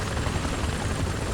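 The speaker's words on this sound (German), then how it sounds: "Ja, der Heli." Helicopter in the military shooter Ghost Recon Advanced Warfighter 2, a loud, close, continuous rotor thrum and engine roar filling the moment without any speech.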